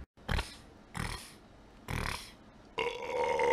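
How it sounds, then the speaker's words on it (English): Loud belches during a video game, three separate deep burps spaced about a second apart, each rough and brief, followed by a louder noisy sound at the end. "nice giant belch for you."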